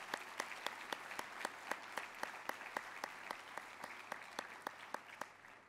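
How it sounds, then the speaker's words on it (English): Conference audience giving a round of applause, heard as slow, evenly spaced individual claps about three per second over a faint room hush, quiet and somewhat distant. "Please join me in a round of applause for our chapter committee."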